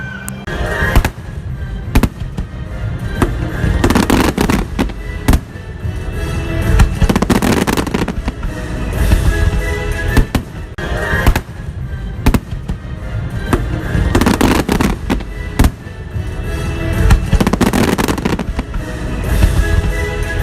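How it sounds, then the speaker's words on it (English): Fireworks exploding at Epcot, a loud, continuous barrage of booms and crackling bursts with sharp individual bangs rising out of the rolling rumble for the full stretch. "the fireworks were amazing"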